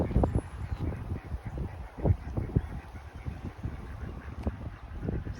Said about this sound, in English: Some different types of ducks swimming around out there, and some upstream there underneath the bridge.